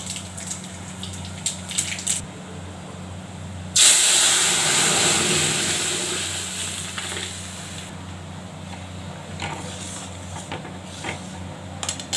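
Mustard and nigella seeds hit hot oil for a dal tempering, setting off a loud, sudden hiss that surges and then slowly fades into a low, steady crackle.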